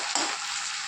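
Loud, close hiss of spices and onions frying in a pan while a meat curry is cooked, with a brief stirring scrape near the start and a steady crackling sizzle throughout.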